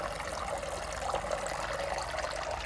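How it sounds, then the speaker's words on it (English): Running water from a garden pond waterfall in freezing winter weather, a steady continuous splashing rush, close and even throughout with no voices. "switch off the waterfall, and then just have it circulating underneath"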